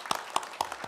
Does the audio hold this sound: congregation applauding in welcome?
yes